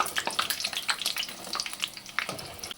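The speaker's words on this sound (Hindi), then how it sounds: "हल्का सा इन्हें हम और फ्राई करेंगे" Chicken macaroni pockets crackle and sizzle in hot oil while frying, with quick, irregular pops and hisses at close range.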